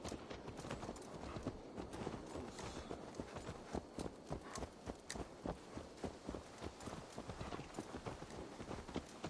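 A horse clip-clops along at an even walking rhythm in Assassin's Creed Valhalla, the hoofbeats distinct but fairly quiet over a steady outdoor game ambience, with no speech.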